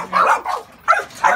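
A Pitbull or Rottweiler, a Caribbean dog, gives three or four quick, close barks in a short burst.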